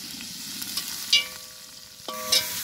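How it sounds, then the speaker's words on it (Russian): Onions fry in a cauldron over a campfire, a steady close sizzle with a couple of sharp metallic scrapes from stirring. "Лук сейчас поджарим немного."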